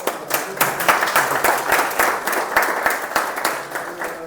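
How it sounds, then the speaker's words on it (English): Seminar audience giving a sustained round of applause, dense steady clapping from a roomful of people at close to moderate distance, with faint voices underneath. "A big round of applause to Sir."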